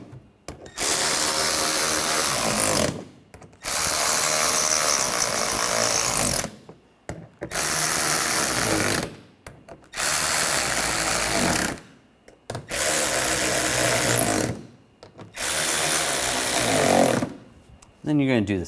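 Power tool driving bolts into the lower radiator support of a 2013-2019 Ford Escape 2.0L L4, five or six loud close bursts of a few seconds each, separated by short pauses.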